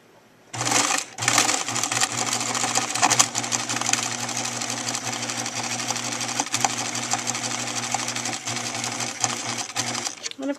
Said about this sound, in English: lower the presser foot down onto the fabric, and we're ready to start sewing